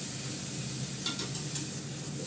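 Fish curry simmering in a steel pan after hot water is poured in, giving a steady soft sizzle and bubbling with a few brief stirring scrapes in the middle, fairly close and alone.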